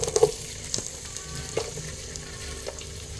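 Sliced onions frying in oil in a pan for egg biryani, a steady soft sizzle with a few brief clinks and stirring scrapes, close and fairly quiet throughout.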